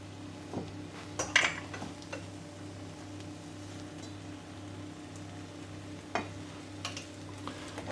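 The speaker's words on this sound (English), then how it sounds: "So now we're putting the chicken back into the nasi, and we're also going to add another tablespoon of the kecap manis." Chicken is stirred into nasi goreng with kecap manis in a wok, giving faint scraping and clinking of a utensil against the pan over a soft low sizzle, with a few sharper clatters.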